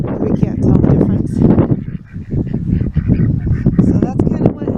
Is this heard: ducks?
yes